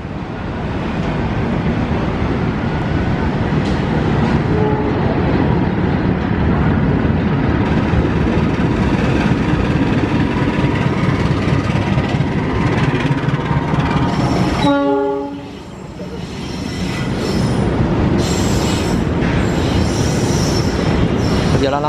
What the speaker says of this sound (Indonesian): Ini kita saksikan ada kereta melintas dari arah timur